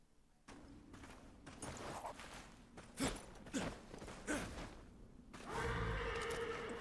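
A horse in Darksiders Genesis neighs and whinnies repeatedly, with breathy snorts and a sigh-like exhale, fairly loud and close, ending on a longer, fuller whinny.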